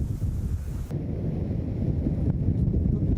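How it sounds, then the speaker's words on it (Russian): Strong wind of a snowstorm high on a mountain roars and buffets the microphone in a continuous, loud rush with no pauses. "Тут наверху еще снежная метель."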